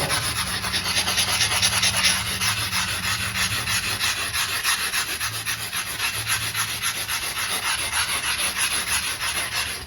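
A stone brush scrubs yellow stains from bathroom floor tiles in a steady, close, continuous back-and-forth rasping, loud and alone throughout.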